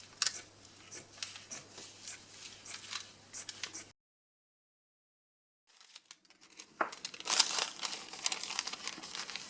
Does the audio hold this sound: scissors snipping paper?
yes